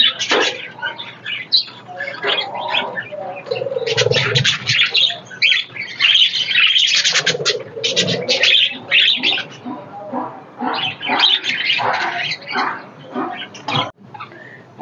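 A colony of budgerigars in an aviary chatters nonstop, a dense, close chorus of overlapping chirps, squawks and warbles that rises and falls throughout.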